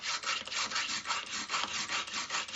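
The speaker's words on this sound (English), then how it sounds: "use a small Archimedes style hand drill for making precise pilot holes for the hinge screws" A small Archimedes-style hand drill bores precise pilot holes in a wooden jewellery box for hinge screws, giving a quiet, close, rhythmic rasping and scratching as the bit twists back and forth in the wood.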